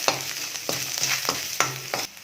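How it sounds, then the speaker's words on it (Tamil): Coconut, asafoetida and tamarind sauté in a pan for a thogayal, with a spoon scraping and stirring in steady strokes about once a second over a soft, continuous sizzle. No one speaks. "இப்போ தேங்காய் சேர்த்துக்கிறேன். பெருங்காயத்தூள், புளி, இப்போ எல்லாம் சேர்த்து கொஞ்ச நேரம் வதக்கிக்கலாம்"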